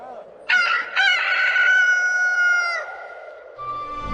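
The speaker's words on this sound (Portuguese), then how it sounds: "o galo cantou pela segunda vez" A rooster crows loudly and close, with two sharp starts followed by a long, sustained call of about two seconds that fades out. No one speaks over it.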